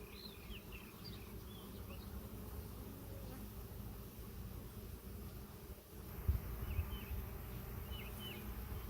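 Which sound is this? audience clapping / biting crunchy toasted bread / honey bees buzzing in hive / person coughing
honey bees buzzing in hive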